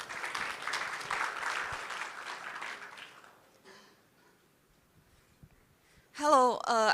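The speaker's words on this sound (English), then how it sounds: "let's have a really warm round of applause for Veronica" Warm audience applause in a conference breakout room at Devcon SEA for a speaker taking the stage. The clapping is dense for about three seconds, then thins to scattered claps before a voice begins speaking near the end.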